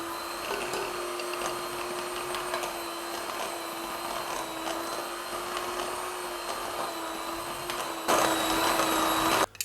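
An electric mixer beating butter and powdered sugar for biscuit dough, a steady high motor whine held without pause, then a brief louder surge near the end before it stops.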